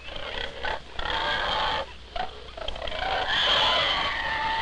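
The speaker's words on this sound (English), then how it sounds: "These baby pigs are hungry." Hungry baby pigs feeding on a farm, with soft grunts and snuffling squeals coming in short bursts, mixed with rustling and scuffling, fairly quiet and close.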